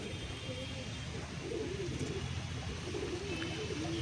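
Golden-eyed pigeons kept at a home loft coo in low, wavy repeated phrases close by, under steady background noise and a person talking.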